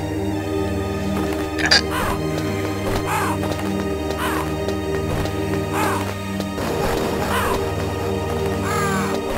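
Crow caws heard in Metal Gear Solid, several harsh calls spaced through the clip, mid-distance, over a dense droning game soundtrack with a brief crash near the middle.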